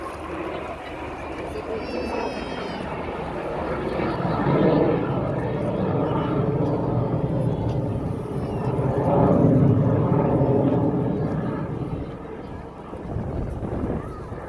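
A BAC Jet Provost Strikemaster jet with a Rolls-Royce Viper engine performing at an air show, its broad, steady roar swelling and fading as it passes, mixed with wind noise.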